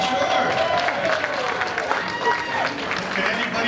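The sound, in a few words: audience applause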